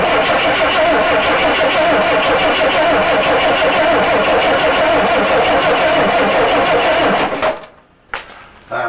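A 1964 Pontiac Tempest engine cranks on a weak battery, a loud, close, steady rhythmic grinding of the starter for about seven seconds before it stops abruptly, followed by a brief click.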